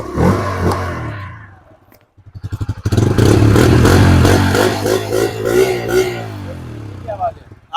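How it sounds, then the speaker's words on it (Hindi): A Bajaj Freedom 125 CNG motorcycle starts up on compressed natural gas, a short cranking burst and then a steady, close single-cylinder idle with a rhythmic throb and light mechanical clatter that runs on without pause. "स्टार्ट हो गई भाई, आवाज भी सुन लो।"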